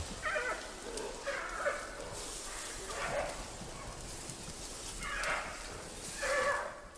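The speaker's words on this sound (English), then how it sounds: "From the growls, it's obvious the males will have no energy left for fighting, as Lulu does with the females in Wolong." Male giant pandas growl and bleat in repeated bursts, each call rising and falling over a steady hiss of ambient noise, moderately close.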